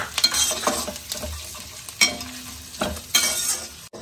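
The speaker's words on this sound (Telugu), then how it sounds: "క్యారెట్ కూడా బాగా కలుపుకొని ఒక 5 minutes వేగించుకోవాలి." Carrots stir-fried in a pan, a steady sizzle broken by repeated scraping stirs of a spatula, close and fairly loud, with a few distinct strokes spaced about a second apart and no talking.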